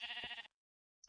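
A Minecraft sheep bleats once, a close, wavering cry lasting about half a second, followed by silence and then the start of another short bleat.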